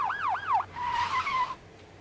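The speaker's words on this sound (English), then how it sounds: "Are those sirens?" Police sirens wail in Vampire: The Masquerade - Bloodlines, a rapid warbling yelp cycling a few times and then switching to a shorter steady tone before cutting out, fairly close and clear.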